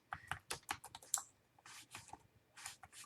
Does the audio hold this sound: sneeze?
no